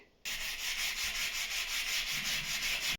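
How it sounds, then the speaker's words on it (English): Steady, continuous scratchy rubbing of sandpaper worked by hand, loud and close, starting abruptly and running without pause for a few seconds. "I guess it's hand sanding time."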